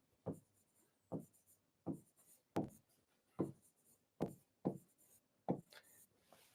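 Chalk or marker writing on a board in a classroom math lesson, a series of about eight sharp, evenly spaced strokes, close but quiet, with no voices.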